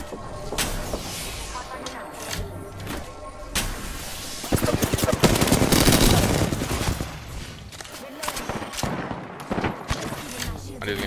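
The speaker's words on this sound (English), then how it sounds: "He's getting shot from behind." Rapid gunfire bursts and fusillades from the Apex Legends video game rattle through the clip, loudest in the middle, with players talking over the shooting.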